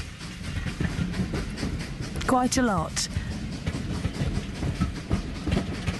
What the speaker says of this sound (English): the train at Bovenhall will be running continuously on the park's miniature railway